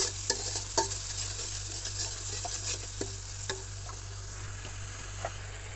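Ginger and garlic frying in a pan for a Bengali fish curry, giving a steady close sizzle broken by a scatter of light spatula scrapes and taps on the pan, with no talk.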